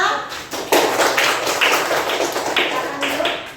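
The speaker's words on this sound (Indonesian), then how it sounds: "Silakan berikan tepuk tangan." A small audience at a school class presentation gives brief applause, a few hands clapping in quick uneven taps, close and fairly loud, tapering off within a few seconds.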